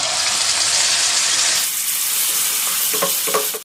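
Mustard paste goes into hot oil that already holds black cumin seeds, after fried parshe fish: a loud, steady sizzle that drops in tone partway through, followed by a few stirring scrapes.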